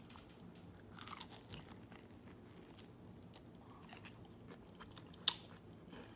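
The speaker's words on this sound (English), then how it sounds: "Get y'all the first bite. Wings and hot sauce, yeah. From KFC." Someone bites into KFC chicken wings with hot sauce, giving soft, close-up chewing and crunching at a low level, with one sharp crunch standing out near the end.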